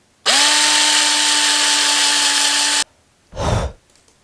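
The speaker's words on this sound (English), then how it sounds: "we're gonna go ahead and pre-drill our holes for our 4-hole plate" A power drill pre-drills screw holes through a four-hole metal plate into a wooden prosthetic peg leg, one loud steady whirring run of about two and a half seconds, followed by a short breathy sigh.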